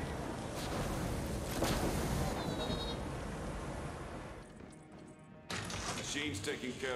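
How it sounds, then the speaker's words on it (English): Sheep bleat in the video game Tiny Tina's Wonderlands, a wavering cry rising briefly out of dense, continuous game sound and voices, with people talking over it. "Are those Bo Peep sheep?"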